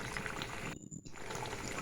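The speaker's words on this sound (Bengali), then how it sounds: "দেখো বন্ধুরা কেমন ফুটছে তরকারিটা।" Curry boiling in a pan, a dense close bubbling and sizzling that carries on steadily, broken by one brief quieter gap midway.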